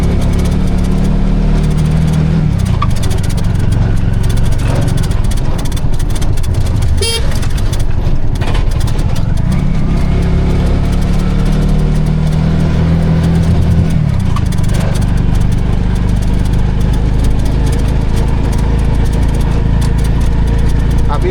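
Piaggio Ape City three-wheeler engine droning steadily in third gear on the road, loud and continuous with a rough low rumble, someone talking over it throughout.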